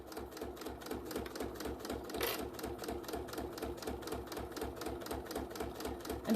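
A sewing machine runs steadily, stitching along the side of a vinyl bag, with a quick, even mechanical clatter of needle strokes at moderate level and no talk.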